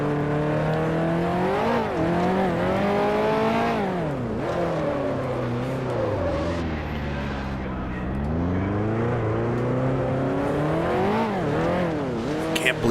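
A 1955 race car spins out at the Monaco Grand Prix in Grand Prix Legends, its engine note rising and falling in long sweeping whines as it slides, loud and close throughout.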